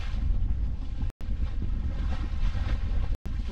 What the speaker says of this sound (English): This wind is very tasty.